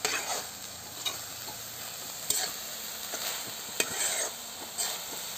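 Food frying in a pan sizzles steadily while a spoon scrapes and stirs it in repeated strokes roughly once a second as salt is mixed in, close and clear with no talking.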